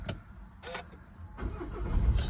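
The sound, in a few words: Volkswagen Tiguan 2.0 TDI diesel engine starting up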